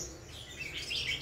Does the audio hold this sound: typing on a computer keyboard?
no